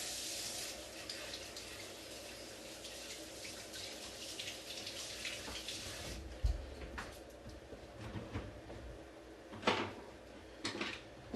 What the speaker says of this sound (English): Go ahead and rinse this guy real quick.